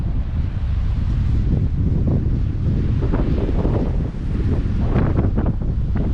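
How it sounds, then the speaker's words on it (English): Strong wind roars and buffets the microphone on an exposed hilltop rim along the Collins River loop, a loud continuous rush with gusting surges and no voices. "And the wind is ripping."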